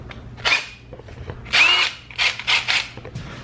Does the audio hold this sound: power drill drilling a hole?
yes